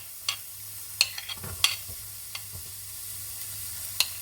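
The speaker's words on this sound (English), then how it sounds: "Let's add in our onions." Onions added to a pan for a soya mince curry give a faint, steady sizzle under a few sharp clicks and taps of a utensil, quiet and close.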